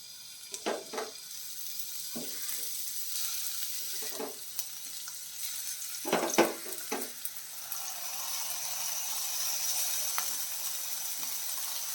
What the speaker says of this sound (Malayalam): എണ്ണ ചൂടായിട്ടുണ്ട് നമുക്കിതിൽ പ്രാണിട്ട് കൊടുക്കാം